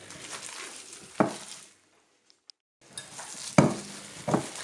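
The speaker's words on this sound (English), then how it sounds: "Just mix and mix and mix." Lamb kofte mixture for a Turkish recipe being kneaded and mixed by hand, giving soft wet squelches and pats in bursts with a silent gap in the middle, faint and close.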